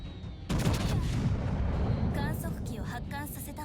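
Naval guns firing in World of Warships, a heavy roaring blast that starts suddenly and rumbles on with a dense low boom. A few faint higher electronic game tones are heard over the tail.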